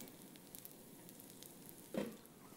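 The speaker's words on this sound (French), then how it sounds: "Huile bien chaude, on va positionner là-dedans nos petits croutons" Small croutons dropped into very hot oil give a faint, steady sizzle, with one short louder crackle of frying near the end.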